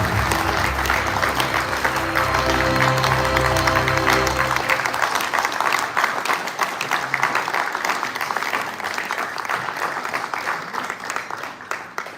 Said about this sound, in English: I would ask that you continue clapping and please help me in welcoming Professor Getachew Ngida.